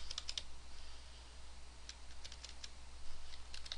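Quick bursts of key clicks from a computer keyboard, scattered light taps in short clusters over a faint steady hum, close and quiet with no talk.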